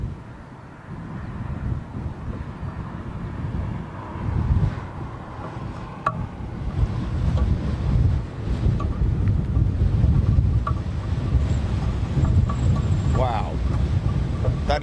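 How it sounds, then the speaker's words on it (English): A chilly wind buffets the microphone outdoors at London Heathrow Airport, a constant low rumble with gusts over distant aircraft noise, while people talk intermittently. "That is a chilly wind"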